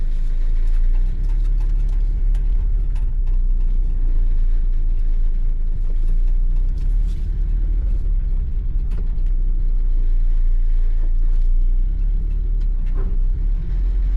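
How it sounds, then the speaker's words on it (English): A 1983 Toyota pickup truck drives along with a steady, loud low engine drone and rumble throughout, accompanied by faint mechanical rattles and clicks, with no talking. "this is a 1983 Toyota truck"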